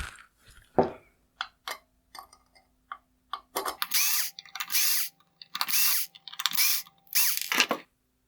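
Small T10 Torx screws being backed out of a BMW 430i LED headlight with a power driver, scattered clicks followed by several close, whirring bursts of the motor with short pauses between them.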